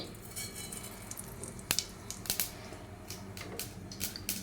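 Mustard seeds and cumin dropped into hot ghee and oil for tomato pappu, crackling and sizzling in faint, scattered pops with a few sharper snaps, no voices.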